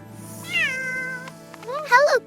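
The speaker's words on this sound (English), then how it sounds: "It's a kitty!" A kitten meows in two short, rising-and-falling calls close by, the second louder and more drawn out, revealed from inside a box during a guessing game, with faint background noise between.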